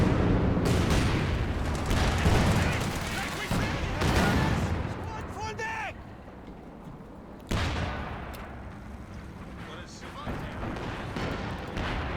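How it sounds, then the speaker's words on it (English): A light artillery barrage in Company of Heroes 2 pounds away with booming impacts and crackling blasts under a busy battle din, while a commentator talks over much of it. "light artillery barrage now raining on in"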